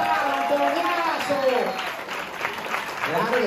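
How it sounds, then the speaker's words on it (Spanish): Audience applause fills a stand-up comedy show, a steady crowd clatter that holds for several seconds while the comedian keeps talking loudly over it. "se den un fuerte aplauso"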